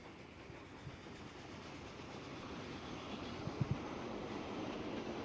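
A train runs in the video game Transport Fever 2 with a faint, steady rolling rumble, a few soft clicks and no talk.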